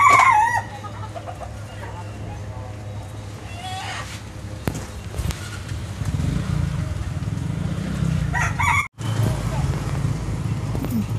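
Chickens clucking with a rooster crowing at a desi chicken cutting centre in Kalahandi, mixed with steady shop and street noise and a passing vehicle; faint voices talk in the background.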